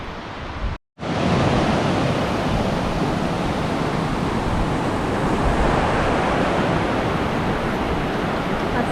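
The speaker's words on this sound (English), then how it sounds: "Got the cascading falls as well coming down there, all the way down behind those trees, down that way." Cascading falls near a swimming hole at Blowering Dam, Tumut, a continuous loud broadband roar of rushing water, broken only by a brief dropout near the start.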